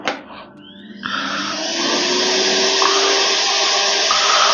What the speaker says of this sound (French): Je vais brancher l'aspirateur.